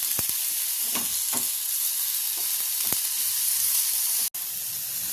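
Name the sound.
onion frying with ginger-garlic paste in a pan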